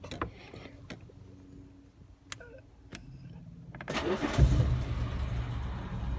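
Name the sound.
Rolls-Royce car engine starting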